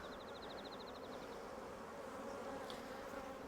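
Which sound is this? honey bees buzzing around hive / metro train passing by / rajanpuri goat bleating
honey bees buzzing around hive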